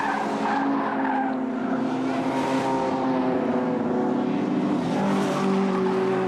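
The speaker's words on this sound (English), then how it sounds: "John Gadbury coming through here in the GT6, and he's followed through by the XK120." Historic sports and racing cars, including a Triumph GT6 and a Jaguar XK120, roar past on a circuit in a continuous loud blend of engine drone and tyre noise, with no voices.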